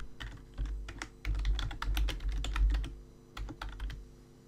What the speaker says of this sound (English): And then I'll just type in a quick password.